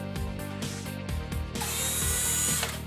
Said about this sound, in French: À l'aide d'une mèche de 8, percez le mur